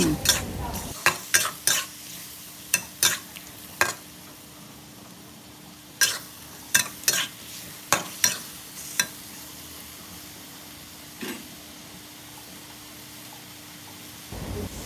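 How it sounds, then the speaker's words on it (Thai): A spatula scrapes and clatters in a pan as beef and onions are stir-fried, with a steady series of sharp strokes over a low, continuous sizzle, close and alone. "แล้วผัดทุกอย่างให้เข้ากัน"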